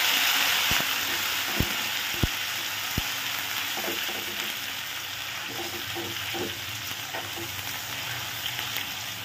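Garlic, ginger and onion fry in a pan with a continuous moderate sizzle, broken by a few sharp utensil taps early and light clicks of stirring later.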